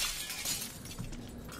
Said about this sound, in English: Let's break open the glass for us.